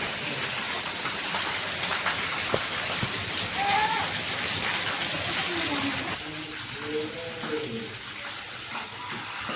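Steady rain falls outside, a dense, even patter of drops on surfaces that holds throughout and thins slightly toward the end, with faint background sounds.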